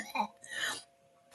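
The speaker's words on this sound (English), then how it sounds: "I'm so sorry I'm coughing" A person coughs from allergies, one or two short throat-clearing coughs close to the mic, followed by quiet breathy sounds and a brief sharp noise at the end.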